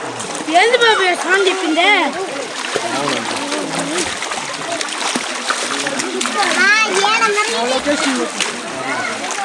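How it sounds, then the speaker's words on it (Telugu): At a waterfall picnic spot, water splashes and rushes steadily in the background while children shout and chatter excitedly over it, with lively voices dominating much of the scene. "చూడండి వాటర్ ఫాల్స్."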